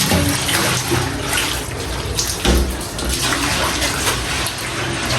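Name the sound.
water running while washing kitchen window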